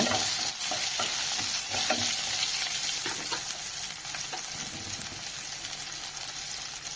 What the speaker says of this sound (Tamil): இது கூடவே ஆறு பூண்டு பல் சேர்த்துக்கிறேங்க அதுவும் நல்லா வதக்கிக்கோங்க